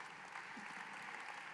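An audience at an AI summit panel applauds a speaker with soft, steady clapping that sounds distant and faint, lasting only a brief moment.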